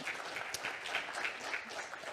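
Audience applause at a French agriculture conference welcoming speakers to the stage, a steady, dense wash of many hands clapping at moderate distance, fairly soft and continuous throughout with no talking over it.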